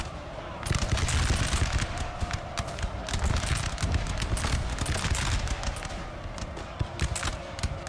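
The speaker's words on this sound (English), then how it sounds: "that's a great hit from the artillery of Denmark" Artillery and massed musket fire crackle through a Napoleon Total War battle as Denmark's army shells the enemy: dense, continuous rattling volleys with repeated sharp reports, loud and busy throughout with no pauses.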